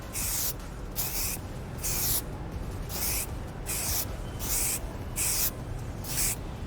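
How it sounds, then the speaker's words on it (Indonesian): Aerosol spray of protective coating applied to a car headlight, a series of short hissing bursts in a steady rhythm, about ten sprays with brief pauses between, close and fairly quiet. "Nah, semprotnya tuh harus pelan-pelan."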